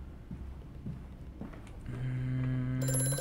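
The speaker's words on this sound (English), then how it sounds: "I don't like that a phone will scare Mandus" A telephone rings in the horror video game Amnesia: A Machine for Pigs. A steady ringing tone starts partway through, rises out of a low murky ambience and holds loud to the end.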